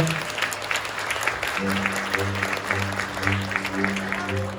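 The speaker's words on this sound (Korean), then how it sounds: "최고의 박수 부탁드립니다" A crowd applauds steadily at a wedding ceremony in a wedding hall, a dense crackle of clapping, while an emcee speaks in Korean and music plays underneath.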